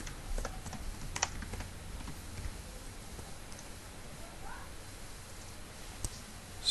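Typing on a computer keyboard, with soft scattered key clicks at a modest distance over a quiet room, no steady rhythm and an occasional sharper tap.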